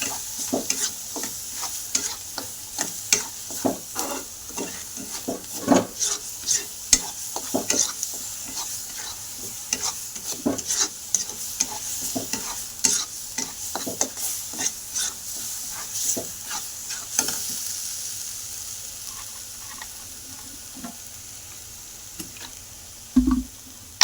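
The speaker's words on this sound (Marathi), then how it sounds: "ते 3 मसाले टाकून परतून घेऊ चांगलं." Masala spices for a fish curry, red chilli powder, fish fry masala and onion-garlic masala, stir-fried in hot oil, with a spoon scraping and stirring in steady repeated strokes over a constant close sizzle, no talking.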